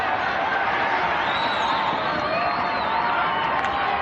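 Steady roar of a rugby league crowd at a 1991 Penrith versus Wests match, loud, dense and continuous, with scattered whoops and shouts rising out of it and a commentator's voice running over the top.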